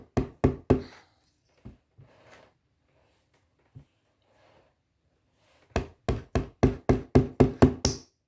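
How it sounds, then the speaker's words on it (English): Sharp taps on the bottom of an Alfa Romeo 147/GT gear lever, seating the main bush into its housing during a gear lever tower repair: a burst of three knocks, a few scattered light taps, then a steady run of about nine firm knocks, close and alone. "tap the main gear lever bottom until the main bush is seated on the housing"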